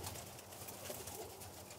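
Birmingham Roller pigeons coo softly inside a loft, a faint, low murmuring of several birds against quiet background hiss.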